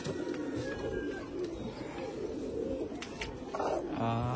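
A domestic pigeon gives soft, low coos close by, a few throaty calls over a quiet background.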